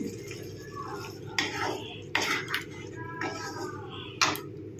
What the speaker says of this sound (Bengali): এবার আমি তোমাদের সার্ভিসিং প্লেটে ঢেলে দেখাচ্ছি